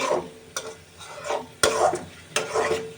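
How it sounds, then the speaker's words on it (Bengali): Ground spices, chilli, turmeric, coriander and cumin with salt, stir-fried in a pan for chicken rezala: rhythmic spatula strokes with sharp clanks against the pan and soft sizzling swells between them, close and without speech. "এখন আমি ভালো করে মশলাটা কষিয়ে নেব"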